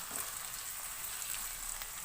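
Finely chopped tomatoes sizzle and fry with onions in a karahi for chicken karahi, a dense, steady crackling hiss with no voices.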